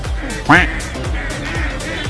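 Geese honking at an open-air farmers' market in Riyadh: one loud, close, rising honk stands out, with fainter calls repeating through steady crowd murmur and market bustle.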